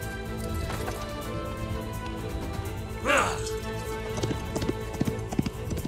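Horse hooves clip-clopping in a dubbed Turkish period action film, a steady rhythmic trot under continuous background music and ambience, with a brief louder swell midway.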